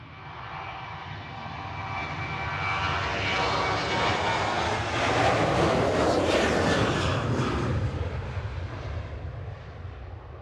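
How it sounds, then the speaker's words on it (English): A Sun Express airliner in special livery departs Manchester Airport, its jet engines a broad, steady roar that swells louder toward the middle and holds, close and continuous with no talk. "Sun Express heading out next with the special livery on it"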